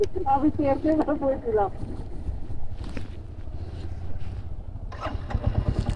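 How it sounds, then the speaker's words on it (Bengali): A Royal Enfield Classic 350 motorcycle engine idles with a low, steady rumble; a voice speaks briefly at the start, and the engine rises slightly near the end. "এখন আমি রাইড করতেছি রয়্যাল এনফিল্ড 350 ক্লাসিক"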